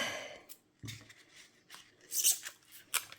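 Quiet, close snipping and crisp slicing sounds of scissors cutting foam tape for a handmade card, a few scattered cuts with a brighter swish near the end.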